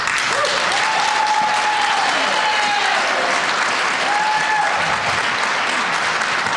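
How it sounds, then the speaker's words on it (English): Loud, sustained clapping fills the room at a Highland Park, New Jersey school board meeting, steady from start to finish, while voices murmur and call out beneath it. "people clapped when Darcy elucidated it"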